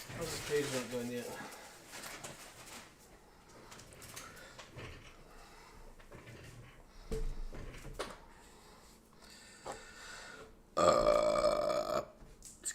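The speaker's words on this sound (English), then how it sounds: "That was a one-time only burp." A single loud burp from a person during a relaxed game session, standing out against scattered talk, clatter and faint background noises.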